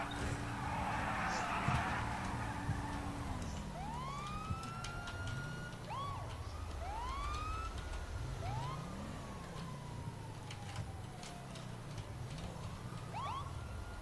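Ambulance siren in the video game GTA 5, rising and falling wails sweeping in from a distance over a steady engine drone, growing louder then trailing off, with voices talking over it.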